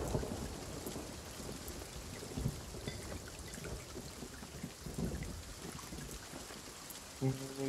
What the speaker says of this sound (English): And I just got fucking struck by lightning again.